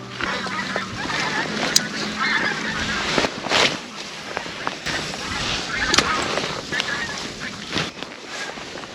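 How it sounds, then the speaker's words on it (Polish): Geese honk repeatedly in the distance over steady wind noise while snow falls, their calls rising and falling with no clear rhythm. "Nie widać ich niestety słychać gęsi."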